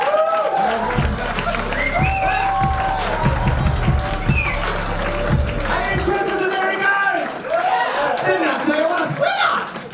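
Comedy club audience at a live standup competition clapping, whooping and cheering loudly, with shouts and a rhythmic thumping beat underneath for the first several seconds, continuing as a dense crowd roar.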